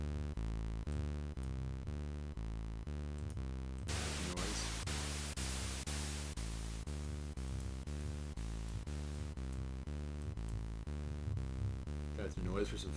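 Synthesizer patch in Audiotool with a layer of added noise: steady harmonic synth tones in a rhythmic chopped pattern, with a bright hissy noise wash swelling in partway through, loud and continuous with no talking.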